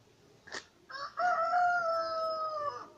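A rooster crows once in a clear, drawn-out call on a snowy morning, preceded by a short cluck, moderately close and heard alone.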